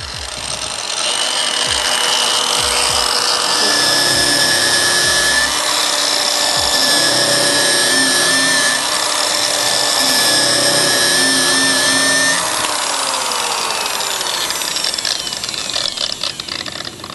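A power finishing tool works stainless steel in a long, loud continuous grinding whir with a steady high whine, running alone for most of the stretch before slowing near the end.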